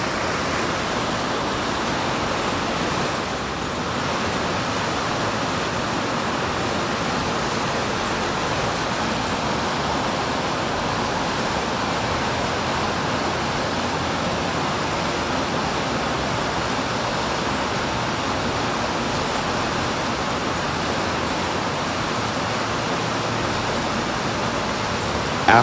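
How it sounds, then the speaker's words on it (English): A river rushes steadily beside a stop off the I-70 in the Midwest, a continuous broadband roar heard alone and unchanging throughout. "so enjoy the nice river sound."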